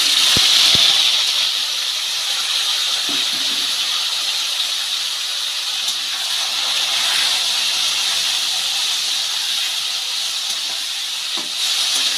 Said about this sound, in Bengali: একটা তেজপাতা আর দুটো শুকনো লঙ্কা ধুয়ে রাখা কুলগুলো তেলের মধ্যে দিয়ে দেব